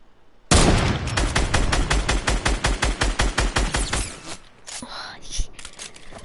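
Assault rifle fire in a video game: a sudden sustained burst of rapid, evenly spaced loud shots lasting several seconds, then stopping, followed by quieter game sounds and faint voices.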